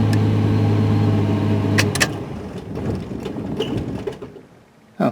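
A 1973 Plymouth Duster engine runs with a steady low hum and mechanical rattle, then is switched off around two seconds in, leaving a fading run-down and quieter background clatter with a brief bump at the end.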